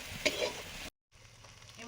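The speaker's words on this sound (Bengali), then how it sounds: "এই কড়াতে হচ্ছে কচু শাকের ফুলের ভাজা।" Taro leaf flowers frying in a wok, a soft sizzle with some stirring that cuts out briefly and then returns more quietly.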